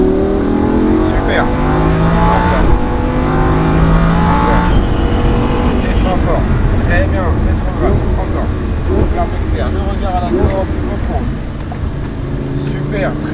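A Lamborghini Huracan accelerating on the Le Mans circuit during a driving course, its engine loud and close with rising revs and gear changes, while an instructor talks over it throughout.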